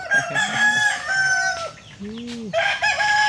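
A rooster crows loudly nearby, two long drawn-out calls with a short pause between, against faint background noise.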